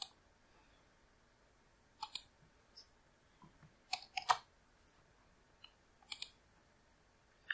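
Mouse clicks during Shopify store setup on a computer, a few sharp, faint clicks scattered in short clusters across an otherwise quiet stretch, with no voices.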